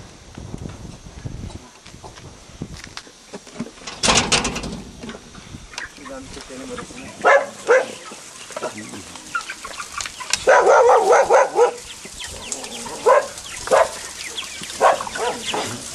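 Dogs bark in scattered bursts at a large chicken farm, some near and some farther off, with people talking in between and other animal noises around.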